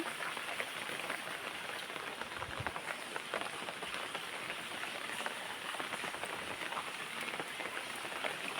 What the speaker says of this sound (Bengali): অনেক বৃষ্টি হচ্ছে। দেখেন গাছের কি অবস্থা, কি অবস্থা! অনেক বৃষ্টি হচ্ছে, অনেক।